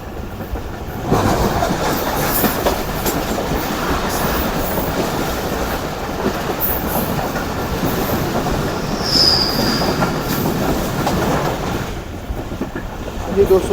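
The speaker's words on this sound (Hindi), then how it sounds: "इस वक्त मेरे सामने से एक अदर ट्रेन आ रही है" The 16 Down Karachi Express, a Lahore–Karachi passenger train, rumbles past on the tracks with a steady roar of wheels and carriages, close and loud, a brief squeal rising partway through.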